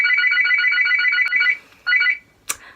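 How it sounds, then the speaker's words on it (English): A telephone ringtone trills loudly in a repeating electronic burst, pauses, then rings again briefly before cutting off, with no talk over it. "I'll let someone else answer the phone."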